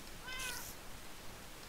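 Minecraft cat letting out a single short meow, bright and clear against quiet game ambience, heard alone without any talking.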